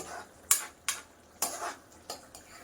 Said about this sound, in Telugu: కొత్తిమీర వేసేసుకుని నీట్గా ఇలా కలిపేసుకోవాలి